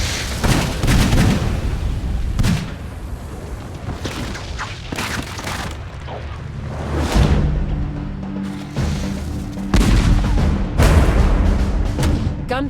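A multi-barrelled gunpowder gun in Age of Empires 4 firing repeatedly, loud booming shots and crackling bursts arriving in irregular clusters over a low rumbling battle din.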